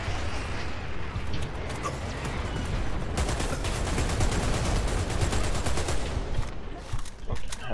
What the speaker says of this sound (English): Incoming fire support.